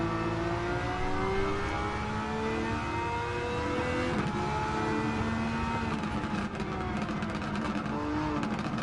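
A raspy E-swap race car engine accelerates hard during a race, a loud, steady, buzzing wail with climbing pitch that holds for the full stretch, with no talk over it.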